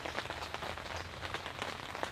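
Rain patters steadily on a very large camping tent in a quiet forest, a dense, soft drumming of droplets with irregular louder taps, faint and continuous with no talk.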